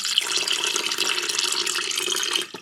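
Cold water poured into a hot umqombothi African beer mixture, a steady broadband splashing pour running continuously and fairly loud before tapering off at the end, with no talking.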